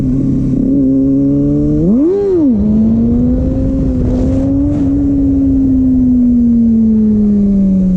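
A Kawasaki ZX6R engine revs in second gear, a loud close tone that climbs, dips sharply and swells again around two seconds, then holds a long steady drone that slowly sinks.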